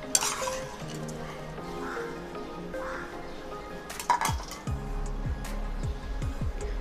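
Washed rice is tipped into a pot of boiling water, bringing scraping and metallic clinks of a spoon against the pot over a low bubbling background, with a few sharper knocks near the end.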